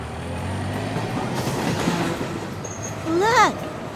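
A subway train runs with a clattering rumble of wheels on rails, followed by a sharp rising squeal of metal near the end.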